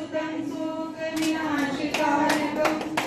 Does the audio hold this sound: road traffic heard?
no